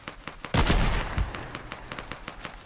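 Gunfire in a Fortnite battle: a loud burst of shots lands abruptly and decays, set against a steady rhythm of quieter rapid shots from fighting players, with no talk.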